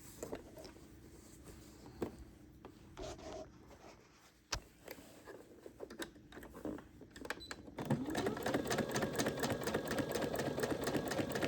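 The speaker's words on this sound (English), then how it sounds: "we're going to do a little back stitch here" Close by, a sewing machine stitches a back stitch, starting in slow, uneven bursts with clicks and pauses, then settling into a faster, steady rhythmic whirring run for the last few seconds.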